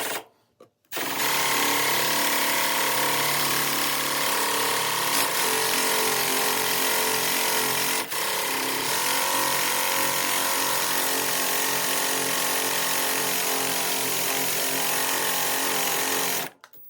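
A power tool cuts threads with an H2 steel bit during an RC model build. It gives a loud, continuous mechanical whir that starts abruptly, runs steadily with a brief dip midway, and stops at the end.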